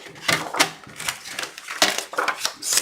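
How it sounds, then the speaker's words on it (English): A bone folder scores lines on a small paper box, giving sharp, rapid, close scraping and tapping strokes in an irregular rhythm. "I was going to say start bone foldering the lines"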